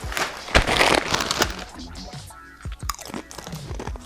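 Doritos crunch loudly as someone bites and chews them close to the mic, sharp cracks followed by uneven chewing, with brief speech mixed in.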